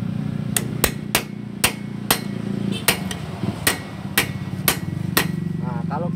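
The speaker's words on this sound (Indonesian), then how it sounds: "kita cari obeng yang agak tajam sininya. Jadi kita pahat dalamnya sini mas." A sharp screwdriver used as a chisel is struck with a hammer on a motorcycle oil pump: about a dozen sharp metallic blows at a steady, slightly uneven pace, loud and close, over a low engine-like hum.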